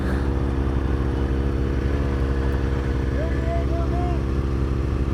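Steady low engine rumble from a Yamaha FZ-07 motorcycle, running continuously at a fairly even idle or cruise, loud and close throughout with no clear revving peaks.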